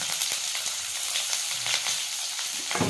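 Onions and green chillies sizzle and fry in hot oil for a mutton curry, a steady crackling hiss with occasional sharper pops and a stir or two, close and alone.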